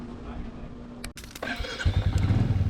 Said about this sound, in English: She's got a great low revving engine, not buzzy at all.